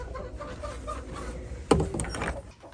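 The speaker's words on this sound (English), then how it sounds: "gotta go in here and feed the chickens." Chickens cluck inside a backyard coop, faint and scattered over a steady low background, with a brief sharper knock or door sound near the middle.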